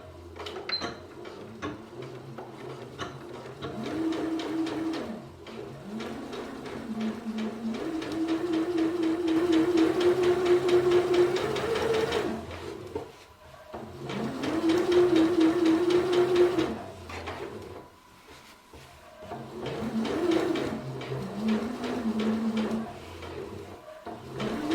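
A sewing machine stitches a long seam on a skirt in several sustained runs, a close steady mechanical whir with brief pauses between bursts and no voices.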